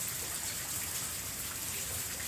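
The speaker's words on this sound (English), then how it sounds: "All this rain out here and the fire going." Rain from Hurricane Milton falls in a steady, even wash of hiss and patter that fills the whole moment without any voices.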